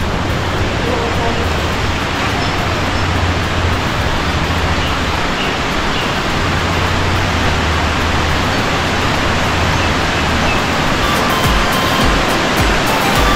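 The Rangtong river at Tabakoshi rushes beneath a bridge in a loud, steady wash of flowing water that holds unbroken throughout.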